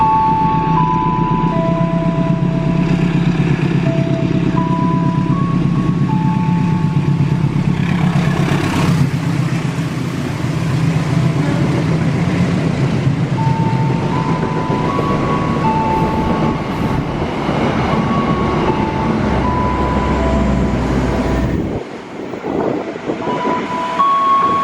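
An Indonesian passenger train rolls past with stainless steel carriages, a loud sustained rumble and clatter of wheels on rails with tonal squeals, ending abruptly near the close.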